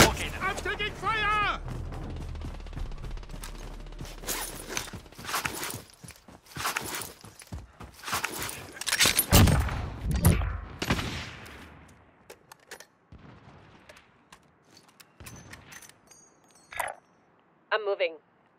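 Gunfire rattles in the battle royale game Warzone, dense bursts and single shots clustered through the first two thirds and then thinning out, with game voices heard over it.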